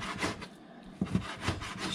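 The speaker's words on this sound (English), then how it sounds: "Apparently I need to sharpen my machete here." A dull machete slicing down through bacon, close and muffled, with a few short rough cutting strokes separated by brief pauses.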